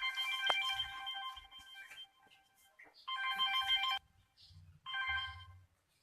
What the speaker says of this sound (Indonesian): Aripek aya telepon di sada. Kring kring